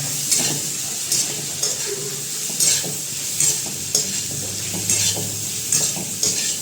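Potatoes being stirred into a pointed gourd curry in a pan, with a spoon scraping in regular strokes about every second over a steady close sizzle of frying.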